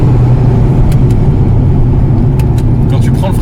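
The 700cc three-cylinder engine of a 2003 Smart Roadster drones loudly and steadily under acceleration, heard from inside the car with voices over it.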